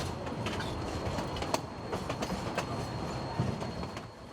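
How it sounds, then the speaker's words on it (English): A train rolls along the tracks through Toltec Gorge, passing into a long tunnel carved out of a mountain; a steady, dense rumble of wheels carries rhythmic clicks and a faint high whine, holding close and even before easing slightly at the end. "The train rolls into a long tunnel carved out of a mountain"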